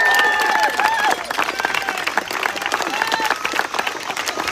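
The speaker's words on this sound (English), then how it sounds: "give yourself a round of applause" Crowd applauding at an outdoor education rally in Leesburg, Virginia, a dense burst of clapping with some cheering that continues steadily at close range.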